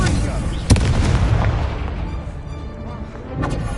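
A fiery spell bursts with a sharp crack and whooshing roar in a Hogwarts Legacy duel, followed by rumbling combat effects and a second burst near the end.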